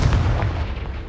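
A Confringo spell blast in the Hogwarts Legacy video game, a single heavy booming burst with deep rumble that fades over about a second, loud and alone with no talking.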